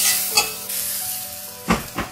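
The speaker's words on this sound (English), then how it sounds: "So roast it nice and brown from both the sides" An avocado paratha roasting in butter on a hot pan gives a steady, close sizzle, broken by two or three brief scraping stirs.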